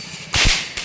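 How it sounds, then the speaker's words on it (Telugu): Diwali firecrackers bursting outdoors, with one loud sharp bang followed by a quick second crack, close and short, with no voices. "ఇదిగోండి ఈ సౌండ్కి టపాకాయలండి."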